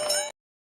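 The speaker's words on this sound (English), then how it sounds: "Ring the bell." One bright bell struck once, ringing with clear metallic overtones for about a third of a second before cutting off abruptly into silence.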